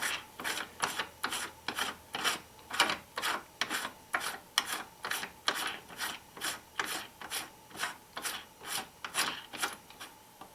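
A metal reloading die body is threaded down into a single stage press for pistol cartridges, giving a rhythmic series of about twenty short rasping, ratcheting strokes at a steady pace, close and clear with no talk.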